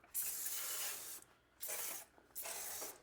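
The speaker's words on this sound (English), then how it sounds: "I try to spray this on pretty liberally." Foam cleaner sprayed liberally from a bonnet kit onto a mini split air conditioner indoor unit, three close hissing spray bursts separated by brief pauses.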